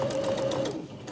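A sewing machine stitches a zip into a cushion cover, a steady fast mechanical whir with a rhythmic needle chatter, close and alone for about a second.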